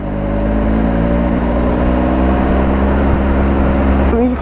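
A 2018 Triumph Speed Triple RS motorcycle ridden gently, its engine a steady low drone with wind rush, cruising softly at an even pitch before a brief rise in revs near the end.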